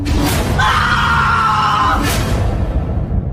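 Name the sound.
man's frightened scream on opening a fridge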